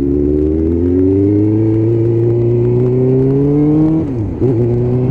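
Suzuki GSXR1000 motorcycle with an end can exhaust accelerating hard, a loud, close engine note climbing steadily in pitch before a quick dip at a gear change and then pulling on again.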